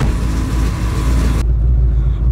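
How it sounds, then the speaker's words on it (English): A twin-turbo 1500HP Camaro ZL1 rumbles with a deep, muffled exhaust note through its two 76 mm turbos, a low steady drone that stays strong while the upper hiss drops away partway through. "That's what happens when your exhaust passes through two 76 millimeter"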